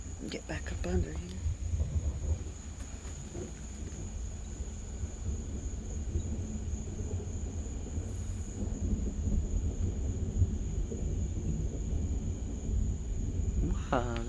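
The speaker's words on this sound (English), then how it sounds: "Wow, that's weird, thunder" Thunder rolls through a late-night storm as a low, continuous rumble that builds steadily over the span, with a few faint clicks and rustles nearby.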